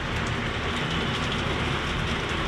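Heavy, continuous monsoon rain with wind in Mumbai, a dense, steady roar of downpour with no breaks.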